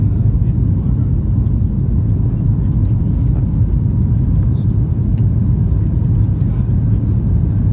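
Steady, loud airplane cabin drone as the plane climbs through rain clouds and bumpy weather, a dense low rumble with no breaks, a few faint high ticks over the top.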